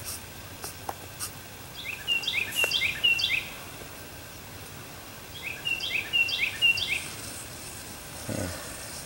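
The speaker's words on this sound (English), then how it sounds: "Funny bird." Outdoors at a campsite, a bird calls in two clear bursts of quick, rising chirps, each a rapid series of notes with a pause between, moderately near over quiet background ambience.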